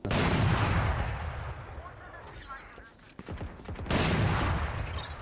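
Loud, dense gunfire from the tactical shooter Valorant during a ranked match, a sustained roar of shots that fades briefly before another heavy burst, with players talking in between.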